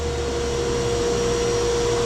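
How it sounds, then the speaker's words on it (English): A vacuum cleaner rigged into a cheap shop air filtration setup runs steadily at close range, a constant whooshing drone with a sustained motor whine and no pauses. "Let that vacuum cleaner go off."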